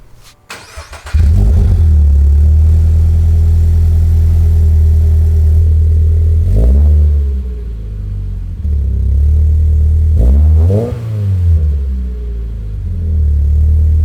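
A 2022 Subaru BRZ/GR86 engine fitted with handmade axle-back exhausts cranks and fires, then settles into a loud, deep, steady idle with two brief rising revs that fall back, with no voices.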